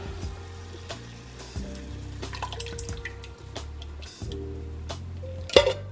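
Canned diced tomatoes and tomato juice are poured from a wet can, giving irregular wet drips, splats and a final clink against the rim, close and moderately loud with no voices.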